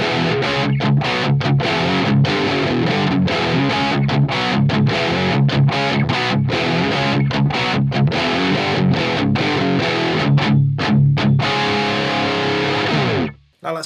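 A distorted electric guitar on its bridge pickup plays crunchy, chugging chords in a steady rhythm with short choppy gaps, then rings out and stops abruptly.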